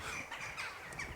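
Crows caw in a graveyard, harsh scratchy calls overlapping at mid distance in a short continuous burst.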